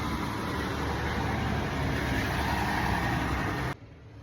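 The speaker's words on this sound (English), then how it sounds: "It is garbage day, so the trucks are being loud." Garbage trucks on collection day send up a loud, steady engine rumble and broadband road noise. It holds for nearly four seconds, then cuts off abruptly to a much quieter background.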